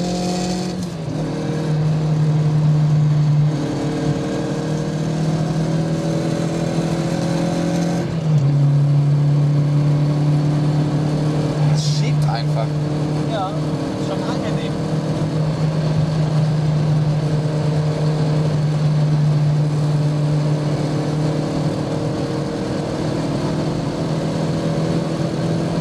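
A Mazda MX-5 NC with added displacement drives at high speed, its engine droning steadily under load with a brief rise in pitch around a gear change. Wind and road roar persist throughout, with no speech.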